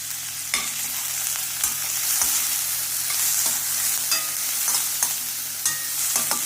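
Onion frying with turmeric in a pan, a continuous close sizzle broken by repeated scraping stirs of a spatula at a loose, regular pace, with no voices.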